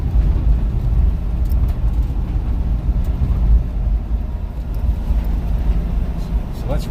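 A freshly restored 1965 Volkswagen Bus Type II with a 1600 cc engine runs with a steady low rumble that holds throughout at fairly close range, with no clear revving.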